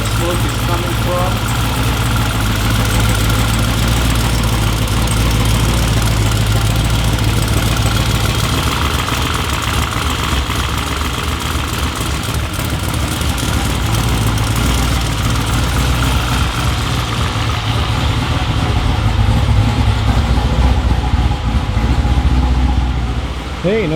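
A twin-turbo Corvette C7 on its first start with a freshly fitted exhaust settles into a steady, loud idle, a deep continuous rumble that holds evenly throughout.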